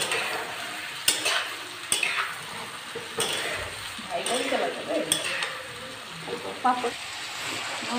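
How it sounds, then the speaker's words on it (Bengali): Carrots and potatoes fry in a pan with a steady sizzle, broken by repeated stirring scrapes and the clink of a utensil against the pan at close range. "এই যে এখানে এখন গাজর আলু ভাজবো।"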